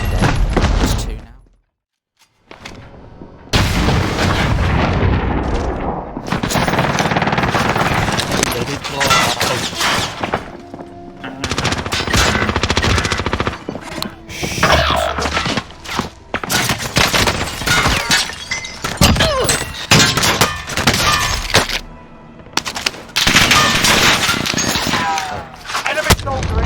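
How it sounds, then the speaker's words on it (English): Gunfire in Call of Duty: Warzone from a PP19 Bizon loadout: loud bursts and single shots with shattering and impact noises, broken by short pauses, as players talk over the fighting. "I'm getting shot from like a living quarters."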